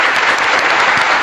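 Loud, dense applause from a crowd, continuous clapping filling the brief moment.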